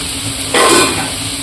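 Capsicum, tomato and potato fry in a covered pan, bursting into a loud, close sizzle that surges for a moment and then eases back to a softer hiss.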